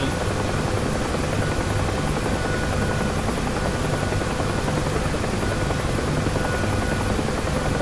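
A UH-1H Huey helicopter in the DCS flight simulator game drones steadily and loudly, its rotor and turbine forming an unbroken, even thrum throughout with no voices.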